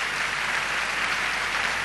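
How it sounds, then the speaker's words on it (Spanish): A church congregation applauds the Lord after a sermon, a dense, steady wash of clapping that fills the whole short moment at close range with no pauses. "Le damos un aplauso al Señor por eso"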